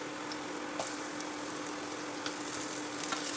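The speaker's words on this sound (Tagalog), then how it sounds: "Sa isang pan, maglagay tayo ng cooking oil at igisa natin yung bawang." Garlic and onion sauté in cooking oil in a pan, a soft, even sizzle heard from a short distance with a few faint ticks and pops scattered through it.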